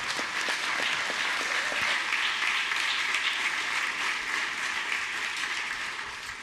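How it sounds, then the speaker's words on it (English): Delegates in a state legislative chamber give a sustained round of applause for visiting local Democrats, a dense, steady wash of many hands that holds evenly before tapering slightly at the end. "giving the CVille Dems a warm round of applause"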